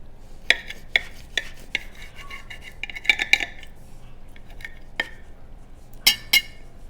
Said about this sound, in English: I had the bread knife here. And I'm going to cut a piece.